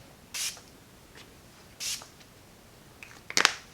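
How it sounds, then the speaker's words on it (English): Makeup setting spray is misted onto a face in three short hissing bursts, the last one louder and choppier, separated by quiet pauses. "Then I'm just gonna finish it off with a little bit of setting spray."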